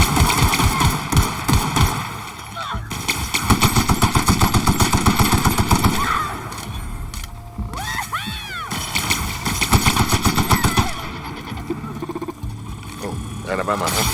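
Rapid automatic weapon fire in The Outer Worlds, with loud bursts of gunshots repeating over the whole stretch amid game effects, while a player talks over it.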